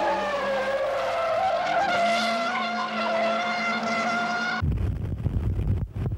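A Suzuki Cultus and a Honda City CZ-i race uphill on a track, engines revving high and steady as tires squeal, then the sound drops abruptly to a rougher, lower rumble near the end.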